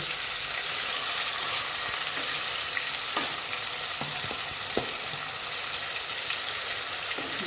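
Small tuna pieces frying together in a pan, a steady dense sizzle throughout with occasional faint taps of a utensil, loud and close, no talking.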